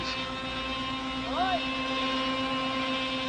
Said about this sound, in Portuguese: É a hora da última experiência com o helicóptero controlado por rádio sob essas condições.